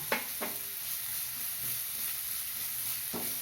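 Chopped onions sautéing with salt in a pan, a soft steady sizzle with a few sharp stirring clicks near the start and end, fairly quiet.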